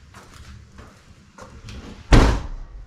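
Lexus GS400 trunk lid swinging shut and slamming, with a few faint creaks and shuffles first and then one loud, heavy thud near the end.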